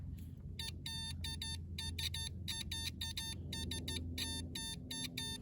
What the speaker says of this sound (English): that one has a beeping function if the circuit is intact